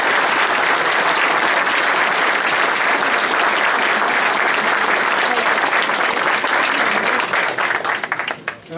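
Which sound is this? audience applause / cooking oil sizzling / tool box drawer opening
audience applause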